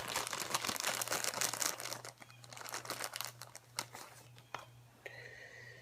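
Soft crinkling and fibrous tearing of Japanese organic cotton being pulled apart by hand, a close, quiet flurry of rustles that thins out toward the end over a faint steady hum.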